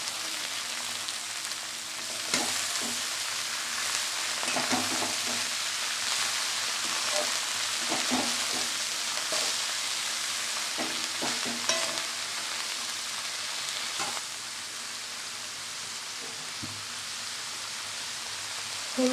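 Cabbage and cumin fry in oil in a pan, a continuous dense sizzle broken by occasional stirring scrapes and clicks, close and steady throughout.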